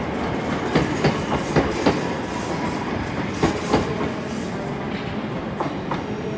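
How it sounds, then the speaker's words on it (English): A pair of ScotRail Class 385 units, 385 108 and 385 118, departs Glasgow Queen Street for Edinburgh Waverley via Falkirk High, with rhythmic clickety-clack wheel beats over a steady rolling rumble and faint wheel squeal. "departing out is a 15:15 departure via Falkirk High to Edinburgh Waverley."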